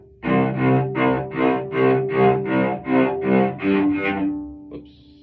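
A cello played with détaché bowing, about ten evenly separated bowed notes in a steady even rhythm, close and clear, followed by a brief pause.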